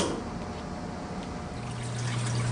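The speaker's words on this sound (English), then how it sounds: "It'll take a moment for the water trough to fill." Water trickles steadily into the trough of a Manitowoc NEO ice machine at the start of its cleaning cycle, a close, constant pouring that grows slightly fuller toward the end.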